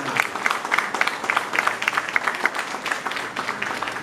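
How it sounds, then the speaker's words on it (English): An audience at a constitution and local government reform consultation in Trinidad and Tobago claps steadily, a moderately dense run of handclaps with a few distinct louder claps near the front, continuing without pause for several seconds. "so please give him a round of applause"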